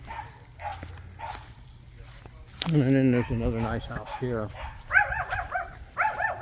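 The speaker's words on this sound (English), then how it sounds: "Of course it comes with a dog." A dog barks several times close by at a rural house in Valencia, Philippines, with yips and whines mixed in, while someone talks over and between the barks.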